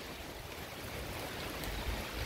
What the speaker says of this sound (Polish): Teraz to jest taki spokojny deszcz.